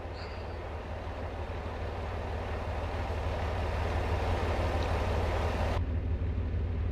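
A heavy truck drives in American Truck Simulator, giving a steady, loud low engine drone with road rumble that holds constant throughout, with no talk.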